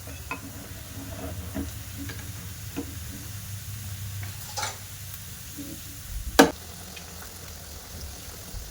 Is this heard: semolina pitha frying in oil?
yes